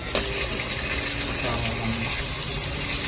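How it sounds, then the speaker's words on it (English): Loud, continuous gushing water spraying out under pressure from a stuck water heater pressure valve under a camper, close and forceful, with a faint tonal whine running beneath the rush. "when you hear water gushing out from under your camper, it's scary"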